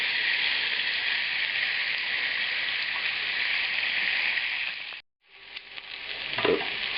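Pork sizzles steadily in a hot pan, two pieces at a time, a dense continuous frying hiss that cuts out abruptly near the end before resuming with light clatter.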